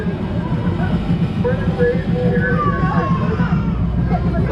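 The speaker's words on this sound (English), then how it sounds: "We're on the train, Juge." Steady rumble and rattle of a small park train riding along at Irvine Park Railroad, with a busy crowd murmur and chatter mixed in throughout.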